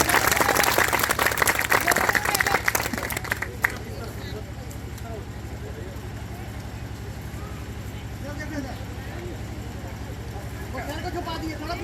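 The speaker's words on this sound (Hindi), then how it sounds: "तो सभी मेंबर्स का जोरदार तालियों के साथ स्वागत करें।" An audience gives loud, dense applause to welcome members at a gathering, which fades after a few seconds into a murmur of people talking.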